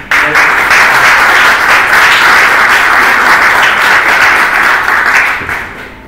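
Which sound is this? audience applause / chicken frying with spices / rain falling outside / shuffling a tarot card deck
audience applause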